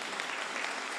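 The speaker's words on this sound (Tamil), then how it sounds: "கைதட்டு பத்தலையே" Applause from the audience at a Tamil pattimandram debate: dense, steady clapping from a crowd that carries on evenly with no pauses.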